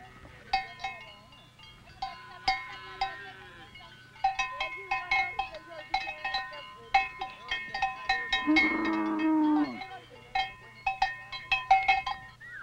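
Cowbells clank in an irregular, ongoing rhythm as Maasai cattle graze on open grassland, with a brief bleating animal call partway through over a low steady hum.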